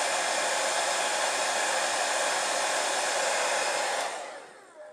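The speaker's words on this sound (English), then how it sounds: "Take my blow dryer, like I have shown you guys in previous videos, and I am going to put a little heat to this in a motion" Blow dryer blasting hot air onto wig lace, a loud steady whoosh held for about four seconds before cutting off and winding down, with no talking.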